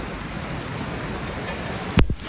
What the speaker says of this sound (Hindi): बहुत भयानक बारिश है